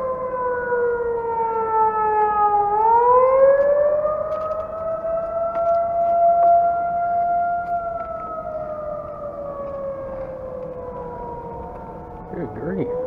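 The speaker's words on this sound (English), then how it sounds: "That is the scariest siren I've ever heard." A loud civil defense siren wails steadily, its tone dipping and then rising again in a long, eerie sweep, with a voice speaking briefly underneath.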